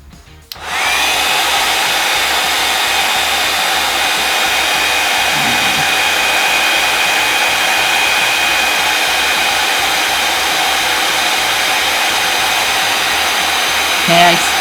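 Heat gun blowing hot air onto embossing powder, a steady loud whooshing roar that starts abruptly and runs unbroken throughout, close to the mic with no talk.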